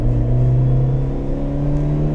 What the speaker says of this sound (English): the car makes a lot of noise